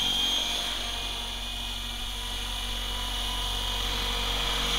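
A Synergy 696 RC helicopter with a speed-up tail pulley flying nearby: a steady, loud, high-pitched rotor and tail whine with a constant drone underneath, no talk.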